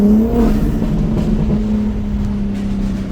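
Car engine droning loudly and steadily at speed while driving, a strong low hum with a faint rise and fall, no talk.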